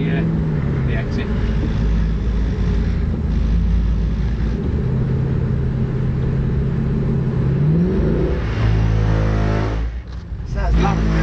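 A rear-wheel-drive Mercedes-Benz revs and accelerates hard into a spin on a track, engine note climbing and holding loud, then briefly dropping near the end.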